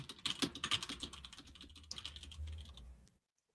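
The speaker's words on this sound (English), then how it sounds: "I'm typing with one hand." Someone types with one hand on a computer keyboard, producing a quick, uneven run of close, soft key clicks for about three seconds before it goes silent.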